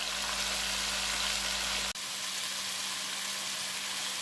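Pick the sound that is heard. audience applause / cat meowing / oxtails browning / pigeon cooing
oxtails browning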